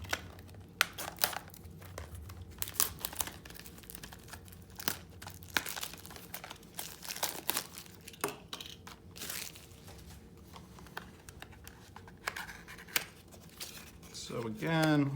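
Sealed MagiNation card game starter deck being unwrapped, with close, repeated crinkling and tearing of plastic wrap in irregular bursts, while a person talks throughout.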